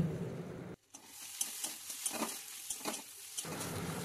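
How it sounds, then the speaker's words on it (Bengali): Bombay duck fish fries in a pan with garlic paste and salt, giving a steady close sizzle broken by brief scraping stirs, with a short sudden drop near the start before the frying noise returns. "এখন আবারও আমি এগুলোকে ভালো মতো ভাজছি।"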